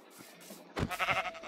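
A Minecraft sheep lets out a short, nasal bleat after a quiet moment, loud and alone in the game's surroundings.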